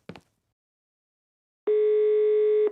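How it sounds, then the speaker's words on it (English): A telephone dial tone in the Murder on the Orient Express video game sounds as a steady, loud continuous tone that starts suddenly after a brief click and near-silence. "All I need is one more phone call to the lab."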